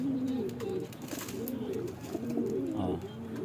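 Pigeons coo steadily in low, rolling murmurs, several birds overlapping close by with a soft background hiss.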